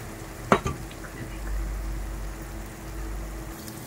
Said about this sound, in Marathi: अद्रक, लसूण, टमाटा, कांद्याची ही आपण पेस्ट आहे ना याच्यामध्ये घालून अशी थोडी परतून घेऊ याच्यामध्ये